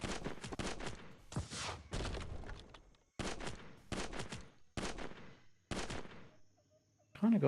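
Rocket launcher fire in the mobile game Gear Fever: a rapid run of bursts and blasts in repeated clusters with short gaps, punchy and close, ending with a brief voice.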